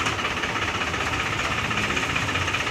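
A John Deere 5055 tractor, a 2013 model, runs steadily at a tractor market, its engine giving a continuous rough, knocking drone with no talk over it.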